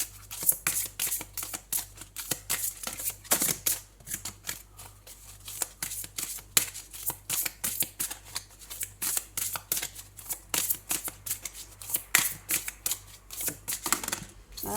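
Oracle cards from the Divine Oracle of Gaia being shuffled by hand, a long run of quick crisp riffling flicks in uneven bursts, close and fairly quiet, with no one speaking.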